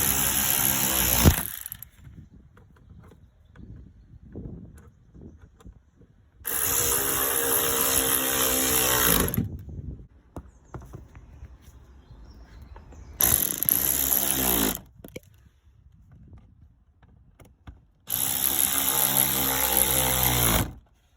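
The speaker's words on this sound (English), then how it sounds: "Gotta tighten all these screws up now." Power tool tightening screws during a full service of a 2000s Seat Ibiza 1.4 MK3, a loud whirring burst repeated four times, each lasting a couple of seconds, with quieter clanking and handling noises in the gaps.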